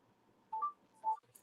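Telephone dialing tones during a phone call: two short, pure keypad beeps about half a second apart, fairly faint and with no talk over them.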